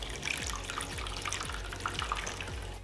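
Melted candle wax is poured into a bowl, making a soft, continuous liquid trickle with faint dribbling sounds, heard close and quiet.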